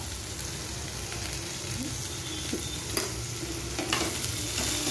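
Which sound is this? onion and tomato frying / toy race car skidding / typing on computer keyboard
onion and tomato frying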